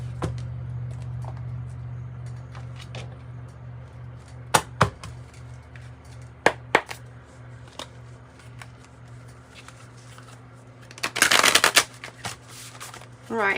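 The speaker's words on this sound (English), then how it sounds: "I'm going to pull from the Modern Goddess Oracle." A deck of Modern Goddess Oracle cards is shuffled, with scattered sharp card snaps and taps over a steady low hum, ending in a dense riffle burst near the end.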